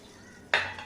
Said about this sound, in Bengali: গোটা মশলাগুলো দিয়ে দিচ্ছি, জিরা, এলাচ আর দারচিনি